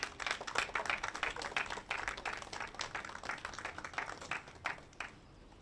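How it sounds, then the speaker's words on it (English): A crowd at a Pride flag raising applauds steadily, many hands clapping at moderate distance, sustained throughout and tapering slightly at the end. "Another round of applause"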